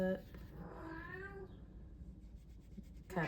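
Domestic cat meowing indoors, a drawn-out rising meow near the start followed by another short meow at the end, fairly close but soft.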